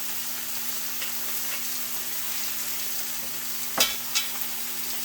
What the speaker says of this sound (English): I'm going to add just a little bit more oil while I sear